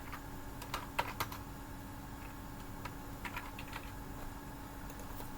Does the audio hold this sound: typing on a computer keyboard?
yes